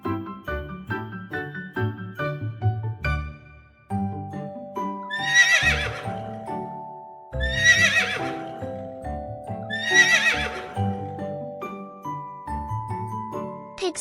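A horse gives three loud whinnying neighs spaced a few seconds apart, each shrill and trailing off, set against a gentle tinkling music track with no speech.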